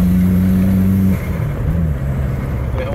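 Loud Volvo 240 Turbo accelerating hard with one wheel spinning, a strong steady engine tone that suddenly breaks off into a rougher, shifting drone, heard close.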